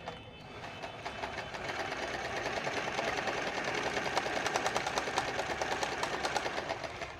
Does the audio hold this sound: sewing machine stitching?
yes